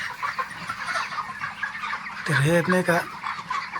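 Broiler chickens about 31 days old cluck in a poultry shed, a busy background of fowl calls with a louder burst of clucking near the end, while someone talks briefly.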